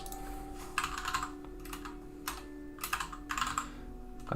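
Typing on a computer keyboard, close and clear, with irregular bursts of rapid key clicks separated by short pauses over a steady low electrical hum.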